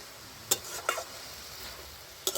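Red amaranth greens with salt and turmeric are stirred in a frying pan, with a steady soft sizzle broken by a few sharp scrapes of the utensil against the pan.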